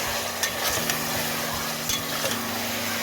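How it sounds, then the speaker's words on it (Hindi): Chicken is fried with garlic, ginger and onion for chicken nihari. A steady sizzle of frying fills the whole short stretch, with light stirring knocks and scrapes against the pan. "लहसुन अदरक और प्याज के साथ खूब अच्छी तरह से भून लिया। अभी इसकी भुनाई और होगी"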